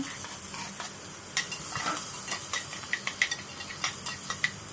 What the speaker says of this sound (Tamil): கடுகு நல்லா பொரிஞ்சு வந்ததுக்கப்புறமா கட் பண்ணி வச்சுருக்கிற ஆனியன் ஆட் பண்ணிக்கோங்க